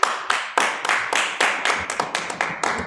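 An audience at a council committee meeting claps in a steady, fairly loud rhythm, the claps coming evenly every fraction of a second, with no clear cheering standing out.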